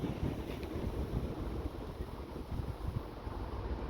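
Steady storm wind buffets and rumbles against the microphone outdoors in an allotment garden, a continuous low roar with gusty swells.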